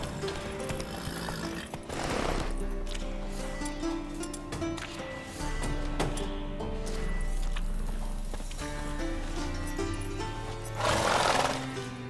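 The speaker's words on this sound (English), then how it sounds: "Gotta calm all the horses before they wake the guards." Horses in a stable in The Witcher 3 video game, with two loud whinnies, one early and one near the end, over a steady bed of shuffling hooves, game ambience and background music.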